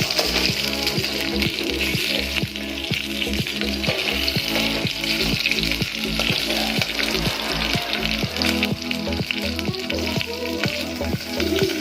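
Sliced chillies fry in hot oil for kadhi pakoda, a steady loud sizzle with regular stirring scrapes against the pan throughout, no voices.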